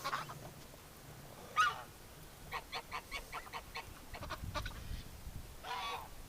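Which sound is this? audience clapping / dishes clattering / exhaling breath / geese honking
geese honking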